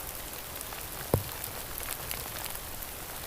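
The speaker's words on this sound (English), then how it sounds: "Rain, thunder, being outdoors," Steady rain patters outdoors onto an orange honeycomb ripstop rain poncho near Hamburger Lake in spring, a dense, even hiss with one sharp close tap, and no voices.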